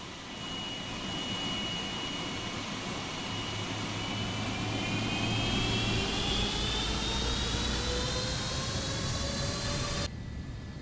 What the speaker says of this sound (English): Run up the engines.